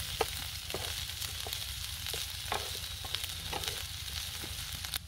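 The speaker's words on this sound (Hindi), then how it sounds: "सब्ज मिर्च को भी थोड़ी देर के लिए भिंडी के साथ फ्राई कर लेंगे" Okra, green chili and onion cook in a pan over low heat, producing a quiet, even sizzle with small intermittent crackles above a low background rumble.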